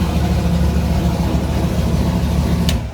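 A car engine fitted with an AcuSump oil system runs steadily with a low, even drone close by. No one speaks.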